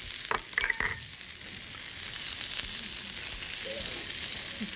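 Peas and shallots stir-fry in hot oil for Vietnamese cooking, a steady close sizzle with a few scraping stirs at the start and no talking.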